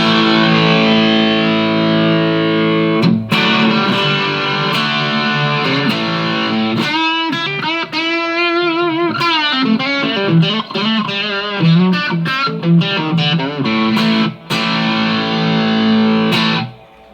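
Electric guitar played through a Sender's Overdrive pedal with drive set high, loud and crunchy. Sustained chords and riffs are broken by short pauses and quick picked runs, and the guitar is heard alone with no talking.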